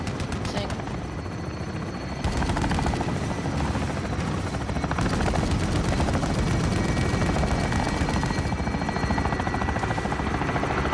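Video game helicopter with a continuous loud rotor drone that fills the whole stretch, joined by bursts of game gunfire partway through.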